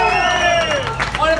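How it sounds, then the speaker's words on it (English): A crowd at an Old Town, Florida street entertainment show cheers and hollers loudly and close by in a short, lively burst. "Give yourselves a round of applause."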